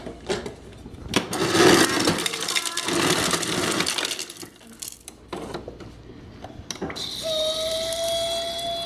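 Water running from a kitchen tap into a cup, a steady broadband splashing with clatter and handling noises, pitch rising at the end as the cup fills.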